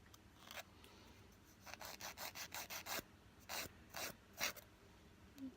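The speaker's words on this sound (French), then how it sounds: "Donc une fois que vous avez fini de limer vos ongles" A nail file rasping across fingernails to shape them square, in short rhythmic back-and-forth strokes grouped in bursts, close and fairly quiet with no voices.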